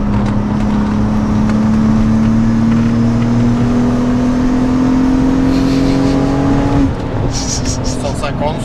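A modified Alfa Romeo 147 GTA driving at speed, a loud continuous engine drone with steadily climbing pitch, then a shift and some rattling cabin noise, people talking inside the car.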